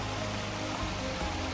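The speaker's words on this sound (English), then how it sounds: "Some small falls." Small falls on Eureka Creek, a steady broadband rush of falling water heard close up, continuous and even with no voices.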